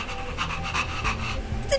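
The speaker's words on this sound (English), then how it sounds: "Is it panting?" A dog-like creature in the video game Honkai Star Rail pants in quick, steady breaths, soft and close, set over a low game soundscape and a faint chime at the end.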